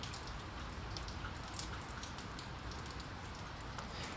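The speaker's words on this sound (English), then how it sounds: "Outside of nature, you can hear it in the background, it's raining here." Rain falls outside with a soft, steady patter and hiss, faint and distant, and scattered drops tick through the constant wash.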